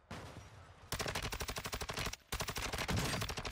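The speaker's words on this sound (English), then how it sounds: "They're both shooting at me." Rapid bursts of automatic gunfire in the shooter game Call of Duty: Warzone, with an STB 556 rifle setup: two loud, sustained volleys of closely spaced shots separated by a brief pause, close and dominant with no talk.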